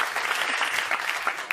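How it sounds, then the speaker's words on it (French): Moderate applause from an audience, a steady patter of many hands clapping, somewhat distant and without voices over it. "On peut l'applaudir quand même"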